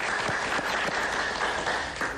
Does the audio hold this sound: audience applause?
yes